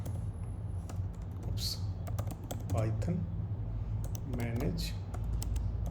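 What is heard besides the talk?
typing a command on a computer keyboard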